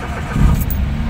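A car engine catches after a fresh battery is fitted, giving a short, close, low rumble that swells as it fires.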